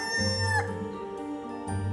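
Rooster crowing close and fairly loud, a drawn-out cock-a-doodle-doo call with faint jingling in the background and no talk.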